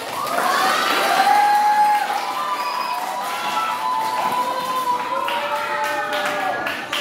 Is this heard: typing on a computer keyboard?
no